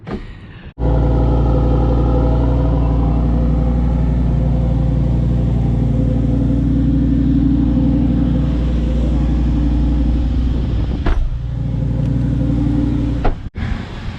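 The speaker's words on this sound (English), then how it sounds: "About to take a little rip in the Performante." Lamborghini Performante sports car under way, heard as a loud, steady engine drone and deep rumble that holds for most of the stretch and cuts off abruptly at both ends.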